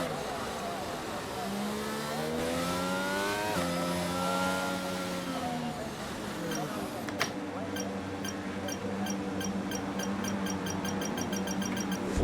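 A Formula 1 car engine in the F1 22 racing game at Albert Park, revving and sweeping up and down through the gears on a warm-up lap, then settling into a steady buzzing drone, with someone talking over it.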